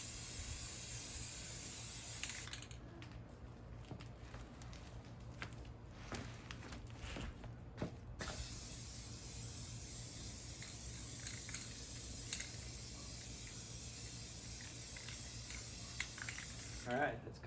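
Spray paint hissing in short, close bursts while a first coat goes onto a car part for a 2010 BMW 328i convertible, with pauses between passes.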